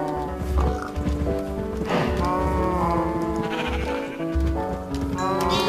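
Sheep in the video game Minecraft bleat repeatedly, several overlapping wavering cries in a farm pen, with horse-like calls and hoof clops mixed in, loud and constant.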